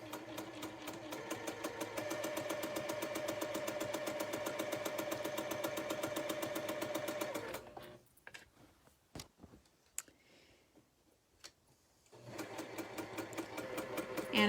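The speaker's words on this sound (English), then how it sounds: "I'm going to go ahead and sew right on the marked line" A sewing machine stitches quilt pieces along a marked line in a steady fast mechanical whir for several seconds, then stops for a few quiet seconds of faint handling before the motor runs again.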